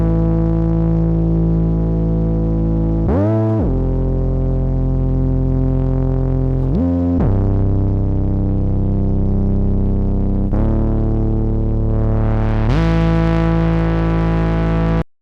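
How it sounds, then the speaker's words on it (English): A fuzzy, noisy synth bass for Afro house plays sustained low notes with a gritty, distorted buzz, shifting pitch every few seconds with short slides between notes, loud and alone for about fifteen seconds. "this one is a little bit more fuzzy and noisy"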